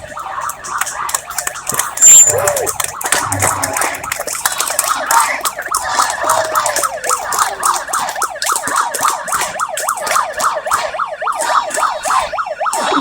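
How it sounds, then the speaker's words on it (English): Emergency sirens wail loudly and continuously at a Christchurch march, their rising and falling tones overlapping and swamping a faint speech in the background. "It's only stupid sirens like drowning out everything they're saying."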